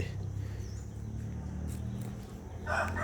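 Burmese game chickens in a pen give faint, distant clucks and a brief crowing burst near the end over a low steady background hum.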